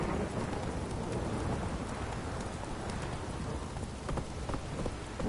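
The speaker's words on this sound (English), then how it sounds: "Let me live. It don't stop raining." Steady heavy rain in a video game (The Witcher 3) pours down continuously, a dense hiss with scattered patters and drips, loud and close throughout.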